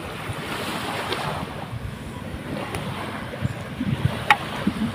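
Sea waves wash onto a beach, a continuous rumbling surf mixed with buffeting wind noise on the microphone and a few louder splashes near the end.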